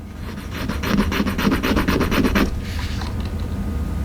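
Silver jewelry rubbed on a testing stone, a rapid run of gritty back-and-forth scraping strokes at close range that stops abruptly partway through, leaving quiet background.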